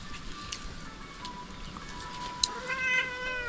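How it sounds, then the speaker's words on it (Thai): A cat meows near the end, a rising then falling harmonic cry, over steady outdoor background noise and a faint earlier tonal whine. "เจ๊แมว"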